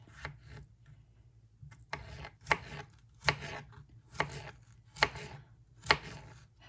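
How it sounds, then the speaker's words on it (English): A knife from an 11-piece kitchen set slices through fresh garden vegetables on a cutting board, making close, crisp, rasping strokes that end in firm board taps at a steady, unhurried rhythm, about one cut per second. "So now I'm going to go ahead and slice it up."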